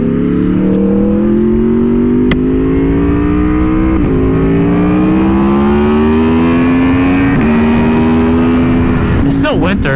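Aprilia Tuono V4R motorcycle with a V4 engine, ridden near a lake: a loud, steady engine drone with gentle rises and dips in pitch as it pulls through the gears, plus wind rush throughout and a brief sharp burst near the end.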